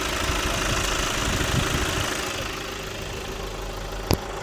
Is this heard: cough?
no